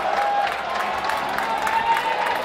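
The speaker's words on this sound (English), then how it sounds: "To a round of applause from the Coventry Blaze fans." Coventry Blaze fans at an ice hockey game against the Dundee Stars give a steady round of applause, a dense, even wash of clapping from a large crowd in an arena.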